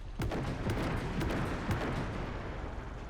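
A 2S9 Nona self-propelled mortar in Armored Warfare fires a sharp booming shot near the start, followed by rumbling blasts and sustained low battle noise.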